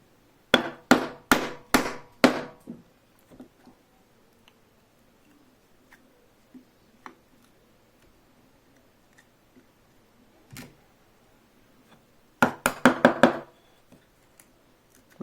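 A mallet drives a chisel to chop a mortise for a bow saw: a quick run of about five sharp wooden knocks, then sparse single taps, then another rapid burst of close blows.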